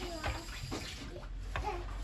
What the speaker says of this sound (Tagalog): Ilagyan ko lang ng tubig.